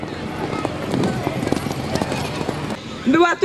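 Racehorses gallop in a three-year-old derby at a Kraków track, hoofbeats rumbling under a steady crowd murmur and commentary, with a louder burst of noise near the end.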